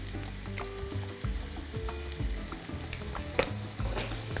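Chopped onion with leafless celery stalks fries in a pan, a quiet, low, continuous sizzle with occasional light crackles and stirring scrapes.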